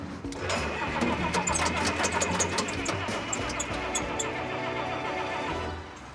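A 1961 Jeep pickup engine cranks and catches, then settles into a steady, loud mid-pitched running rumble close by, holding for several seconds before easing slightly at the end.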